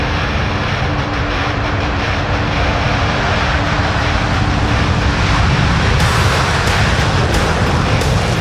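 Blue Angels jets at the Reno airshow in the Rortos Flight Sim game pass in afterburner, a loud, unbroken jet roar that fills the whole stretch without letting up.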